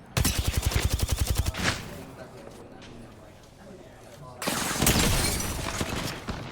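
Gunfire in the Apex Legends video game during a competitive match: a rapid automatic burst of evenly spaced shots, a quieter stretch, then another loud, dense volley of fire.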